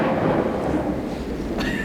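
Thunderstorm sound effect in a King Lear stage production: a loud, continuous rumble of rolling thunder with a rain-like hiss over it, filling the whole short stretch and ending with a brighter crackle.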